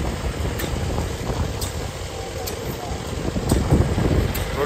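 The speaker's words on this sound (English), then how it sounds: "Running off that little static engine." A small static engine runs steadily at a farm machinery show, a low continuous chug with wind noise across the microphone and a voice speaking faintly nearby.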